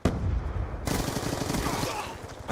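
Rapid, continuous bursts of MSMC submachine gun fire in a Call of Duty match, loud and close, with steady sustained automatic shots and no talk.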